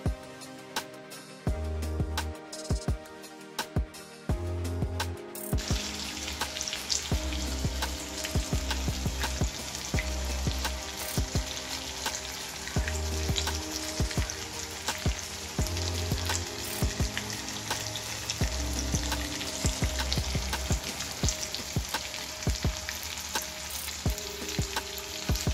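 A whole red snapper stuffed with masala, fried in a pan Goan style, sizzling steadily and loudly with no talk, with low thumping bursts throughout as the pan is handled.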